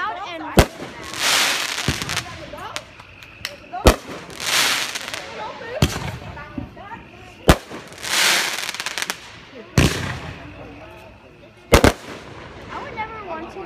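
Fireworks go off in a string of sharp, loud cracks about every two seconds, each followed by a fizzing, crackling burst, with people talking and reacting between the bangs.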